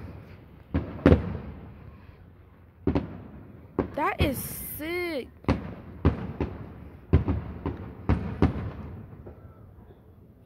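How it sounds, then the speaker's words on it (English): Fourth of July fireworks burst at a distance in repeated booms and crackles, with a couple of whistling rockets rising midway, while people talk briefly nearby. "I think more fireworks are launched often because it's July 4th"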